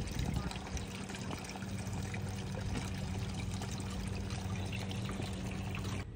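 Water pours steadily into gold prospecting gear at the bottom of a dig hole, a constant broadband rush with a low machine-like hum underneath, continuous for the whole stretch.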